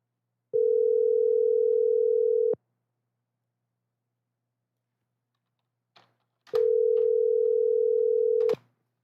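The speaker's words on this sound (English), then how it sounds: "this guy is not answering his phone" Phone call rings out unanswered, two long steady electronic ring tones of about two seconds each separated by silence, with faint clicks just before the second ring.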